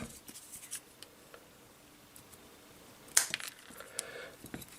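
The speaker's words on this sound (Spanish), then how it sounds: "cortamos con las tijeras" Scissors snip through electrical cable while a custom power strip is wired, giving a few sharp, quiet cuts and small clicks of handling against a hushed background, with no talking.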